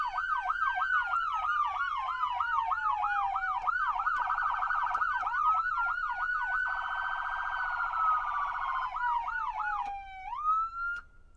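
Two electronic sirens from separate siren boxes on a Ford F-150 fire truck wail together, one rapid yelping and one slower rising-falling tone, loud and close, continuing steadily before winding down at the end.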